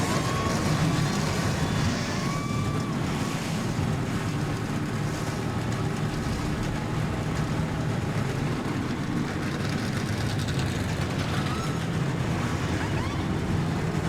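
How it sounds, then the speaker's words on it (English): Stock car engines roar together at the start of the Chevy Rock and Roll 400 at Richmond in the racing game NASCAR Racing 2003, a dense, loud, steady rumble that fills the whole stretch with no voices. "Drivers, start your engines!"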